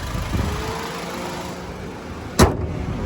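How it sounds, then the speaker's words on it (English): A Honda City engine runs steadily at idle, a low continuous hum close by, with a brief sharp click near the end. "The car running sounds nice, which is good."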